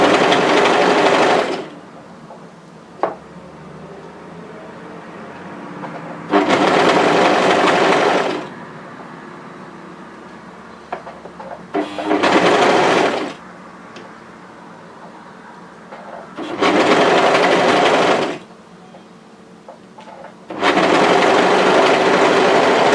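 Domestic sewing machine stitching three fabric layers of a balaclava hood, running in bursts of steady whirring a second or two long, separated by quieter pauses of handling fabric, close and clear.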